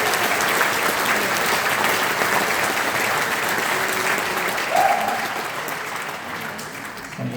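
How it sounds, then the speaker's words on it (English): Audience at an evening event with choir performers gives a sustained round of applause, dense and steady, easing off slightly toward the end with little talk. "give yourselves a huge round of applause for coming along"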